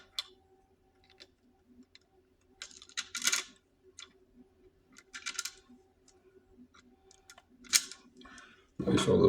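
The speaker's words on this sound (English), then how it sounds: "Place all the screws and screw them all tight" Screws being driven by hand to mount a Blink camera on a Troyer purple martin gourd lid: soft, quiet clicks and ticks, scattered and irregular, with small handling rattles and a louder knock at the end.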